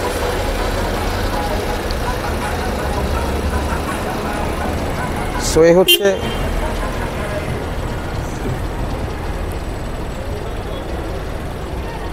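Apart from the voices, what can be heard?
Toyota Premio 1500cc octane engine idling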